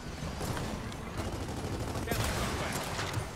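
Sustained gunfire from the Gears of War 4 video game forms a quiet but continuous rattle of automatic weapons and scattered shots, with a denser burst in the second half.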